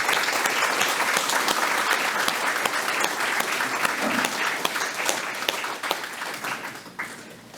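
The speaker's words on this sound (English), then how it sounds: "And as you're clapping" Dense audience clapping at a United Way of Adams County anniversary awards event after an award goes to ACNB Bank, loud and sustained, thinning slightly in the final seconds.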